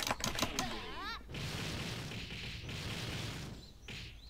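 Rapid plastic clicking of an arcade stick and buttons during a fighting game's arcade mode, a quick cluster of sharp clicks near the start, then a dense, noisy game soundtrack.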